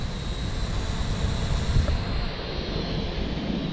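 A P10 Pro Max drone flies at its second speed setting outdoors in wind, giving a continuous high-pitched whirring buzz with steady wind noise.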